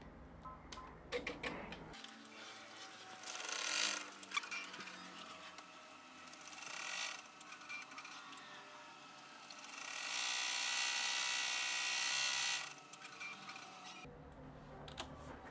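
A computerized embroidery machine stitches out a bracelet or shoe charm, giving a steady run of fast mechanical ticking and clatter with louder buzzing stretches, heard alone with no talking.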